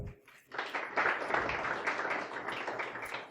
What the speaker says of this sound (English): Give Drew a round of applause